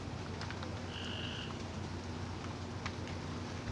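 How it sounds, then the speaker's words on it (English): Frogs croak at night outdoors, a steady dense chorus of calls with a faint brief whistling note over a constant background hum, no one speaking. "Yeah, them frogs throwing me off. They just suddenly started."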